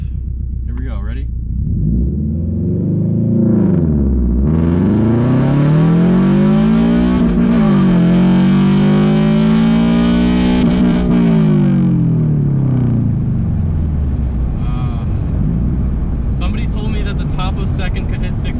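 A modified 2022 Subaru BRZ launches hard from a standstill with traction control off, its engine revving up loudly through gears, pitch rising and dropping at shifts in a close, sustained roar heard from inside the car.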